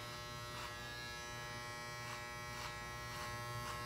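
Electric hair clippers buzz steadily and close by while cutting a boy's hair at home, a constant hum with brief brighter surges as the blades pass back over the hair.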